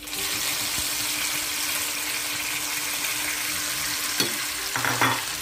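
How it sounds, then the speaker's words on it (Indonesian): Loud, continuous sizzling of blended spice paste frying in hot oil, with a few clinks and scraping stirs near the end. "Kita tumis sampai harum"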